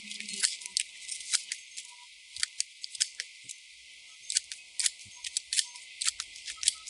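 Hand shears trimming a hibiscus shrub, giving repeated crisp snipping clicks at an uneven pace, close and fairly quiet, with no voices.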